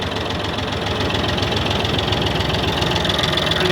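An old David Brown 880 diesel tractor engine starts and idles with a loud, rough, knocking clatter, steady and close throughout.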